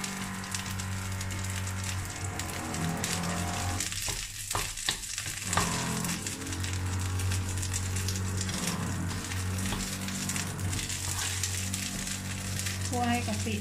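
Shrimp paste frying in a pan for a Thai fried rice crackles and sizzles steadily up close, with stirring scrapes and brief breaks as a voice speaks over it.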